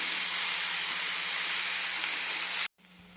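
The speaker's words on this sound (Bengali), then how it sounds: "মশলাটা আমার ভাজা ভাজা হয়ে গেছে।" Spice paste sizzling and hissing steadily in hot oil in a home kitchen for a paneer navaratna dish, a loud continuous fry that cuts off abruptly near the end, leaving quiet background.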